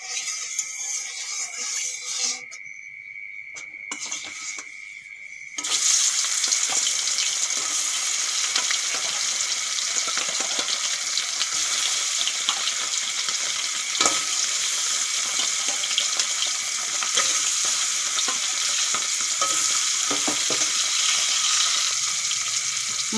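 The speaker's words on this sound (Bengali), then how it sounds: "এখন মাছগুলো আমি ভেজে নেব।" Fish fries in hot mustard oil in a wok, a dense, even sizzle that starts after a brief quieter stretch and then continues steadily, with no voices.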